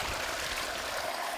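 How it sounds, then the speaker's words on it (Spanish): Hot spring water fed from underground springs flows steadily in the middle of the snowy Andes, a soft continuous hiss and trickle heard up close with no voices. "Toda esa agua viene de vertientes que están adentro."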